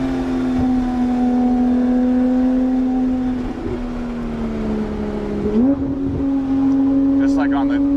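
A Porsche 991.1 GT3 RS drives the smooth, sweeping turns of the Cherohala Skyway, its engine a steady, loud in-cabin drone that rises in pitch as it accelerates, with a voice talking over it.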